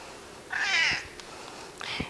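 A house cat gives one clear, close meow, then a shorter second meow, alone in a quiet room.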